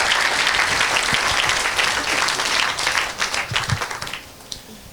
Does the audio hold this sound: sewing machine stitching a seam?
no